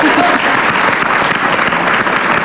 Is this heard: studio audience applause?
yes